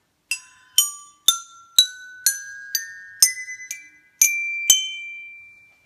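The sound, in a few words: upgraded homemade pipe xylophone being played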